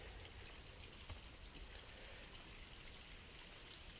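A small trickling water source at the base of a trail sends up a steady, faint wash of splashing and babbling, alone and unbroken.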